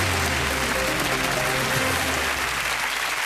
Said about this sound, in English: Ladies and gentlemen, a big round of applause for Neil.